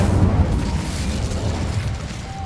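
An Incendio fire spell is cast in the video game Hogwarts Legacy, bursting out as a deep, rumbling whoosh of flame that stays heavy and low throughout, with no talking over it.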